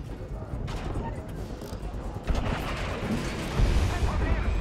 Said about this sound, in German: Luftschlag auf diese Position.